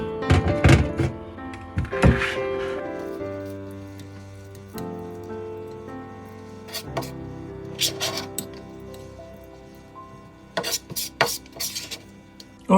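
Minced sardine namero being stirred with sprinkled sesame seeds, with soft irregular thunks and clicks of utensil against bowl, some louder knocks near the start and end, and a person talking in between.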